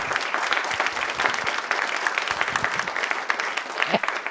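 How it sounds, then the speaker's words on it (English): An audience applauds a panel at a civic engagement event, a sustained round of clapping from a full room with some sharper claps close by. "Let's give a round of applause to this wonderful panel."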